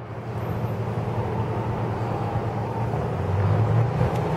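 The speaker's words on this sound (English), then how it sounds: "there's noise of the cars" Road traffic rumbles past on a city street in Magna, Utah, a steady low engine drone that swells slightly toward the end as a vehicle draws nearer, with no voices.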